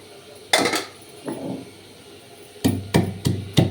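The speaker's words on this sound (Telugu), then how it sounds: "ఈ లోపల నేను అల్లము ఎల్లిపాయలు దంచుకుంటా" Ginger and garlic pounded by hand in a home kitchen: a few separate heavy thuds, then a quicker run of four sharp strikes close by, with no talking.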